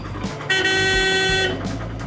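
A car horn sounds in a traffic jam near Patwon ki Haveli in Jaisalmer, one loud sustained honk of about a second, with softer traffic noise and faint shorter toots around it.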